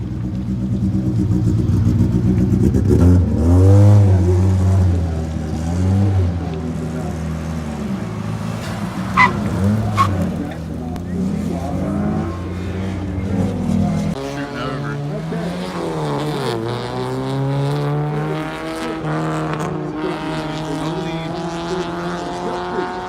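Autocross cars, a Ford Focus and an Acura Integra, revving hard across the finish, engines rising and falling through gear changes in loud sustained drones, with brief squeals and shifting pitch as each car passes near.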